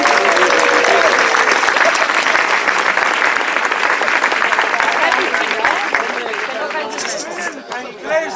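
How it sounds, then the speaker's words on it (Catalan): Sustained, loud applause from a large outdoor crowd at a rally outside Lledoners prison. Dense clapping fills most of the clip, mixed with cheering and crowd chatter, then thins slightly toward the end. "també un fort aplaudiment per tots els altres"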